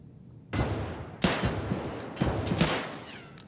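Loud gunfire in Escape From Tarkov, with several close bursts of rapid shots in a factory raid, each ringing out sharply over a faint background.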